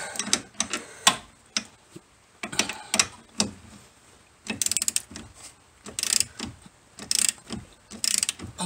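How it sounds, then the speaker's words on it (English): Ratchet wrench working loose the sway bar cross bolt on a C4 Corvette, a series of close, sharp clicking bursts in short runs with brief pauses between strokes. "Take the sway bar cross bolt out."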